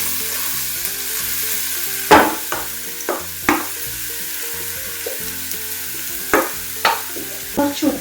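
Ash gourd, onion, coconut and green chilli fry in a pan with a constant sizzle, broken by repeated scraping stirs and spoon knocks at an irregular pace, close and fairly loud.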